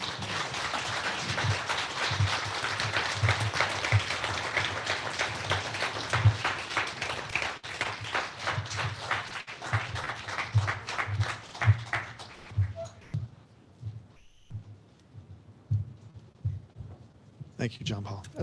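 An office audience applauds after a talk, thick sustained clapping that fills the room for several seconds before thinning into scattered claps, with a voice speaking under and after it.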